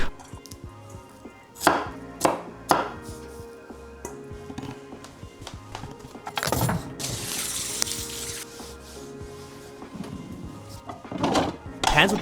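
Sharp knife chops on a cutting board as broccoli is cut into small florets, irregular bursts of close thuds with a voice talking at times.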